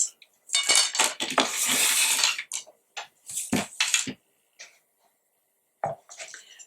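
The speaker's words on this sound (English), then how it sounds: "Combine the flour and the salt in the mixing bowl." Flour and salt for salt dough ornaments being mixed in a mixing bowl, a run of close scraping and clinking strokes of a utensil against the bowl, separated by short pauses and ending in sparse taps.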